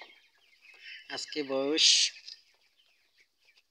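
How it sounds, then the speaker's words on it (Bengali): Broiler chickens about 19 days old on a poultry farm of around 600 birds give short clucks and squawks close by, with someone speaking over them. "দেখেন আমার খামারের মুরগিগুলা ভালোই আছে"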